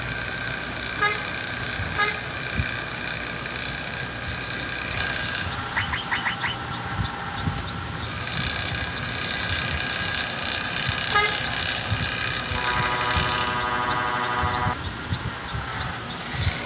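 A ship-like bus horn in the Bus Simulator Indonesia (BUSSID) game sounds in several long, steady tooting blasts, some with a wavering tone, over a constant rumbling engine hum.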